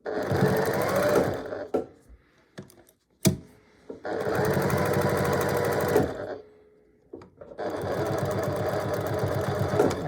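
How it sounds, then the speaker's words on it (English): Close sewing machine back stitching over the joined binding of a square pot holder, with three sustained runs of fast needle chatter separated by quiet gaps holding clicks and small handling knocks. "just back stitching over where it joined"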